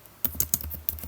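Several quick keystrokes on a computer keyboard while entering an Excel formula, soft clicks in an uneven rhythm, close and quiet.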